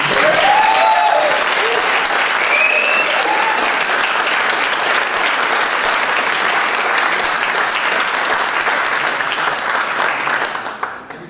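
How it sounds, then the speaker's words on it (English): Sustained applause from a large audience at the general assembly of the XVI World Saxophone Congress, honoring Richard Ingham: a dense, steady wash of clapping that holds evenly for about ten seconds before thinning out at the end. "why not applauding Richard Ingham?"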